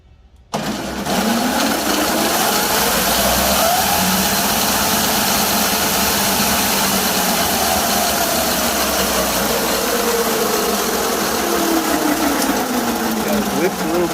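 A homemade fake motorcycle motor runs at medium speed, a loud, steady droning buzz that holds constant throughout, close by and without talk.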